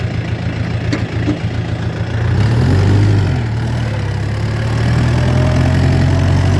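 DTZ 5404 tractor pulling disks across a field, its heavy diesel engine running steadily, then loudening and deepening around a gear change as it pulls away.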